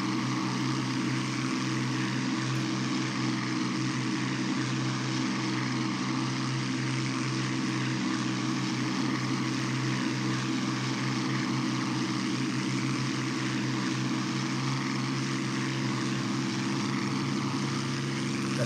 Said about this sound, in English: There are two P-40s returning from the Stuka attack, which I'm seeing now.